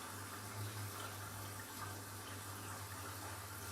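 Water pours steadily into a washing machine drum during a bed linen wash, a constant rushing hiss with a low steady hum beneath it, moderately loud and unbroken throughout.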